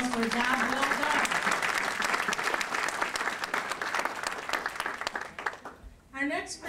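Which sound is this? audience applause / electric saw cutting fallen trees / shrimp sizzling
audience applause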